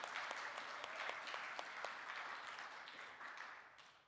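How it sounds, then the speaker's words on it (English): Applause at an organisation's annual meeting, a crowd clapping steadily and thinly, fading gradually toward the end, with no voices over it. "So if you could give Dan a clap here for accepting that."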